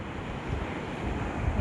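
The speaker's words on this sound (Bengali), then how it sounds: "এই ঢেউগুলো আসছে" Sea waves break on the beach at Mandarmani on a clear morning, giving a short, steady wash of surf with a soft rushing swell and some wind noise, and no voices.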